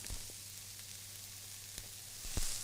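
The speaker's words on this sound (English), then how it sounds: "I'm going to start by sauteing the shallots" Shallots and garlic frying in a pan give off a steady, close sizzle that runs the whole time, with a few soft clicks and stirring knocks near the end.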